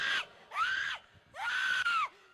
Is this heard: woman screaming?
yes